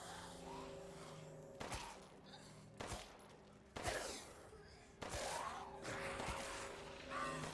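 Gunshots in the Resident Evil video game ring out in a series of sharp, loud bursts a second or so apart, each with a short ringing tail, over a steady low game hum.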